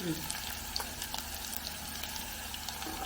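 Shallots frying in oil in a pan for Kottayam fish curry, giving a steady, even sizzle throughout with faint clicks of stirring, close up.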